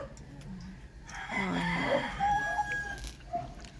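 Hens cluck close by, joined by a longer crowing call from a rooster, with some faint farmyard noise around them.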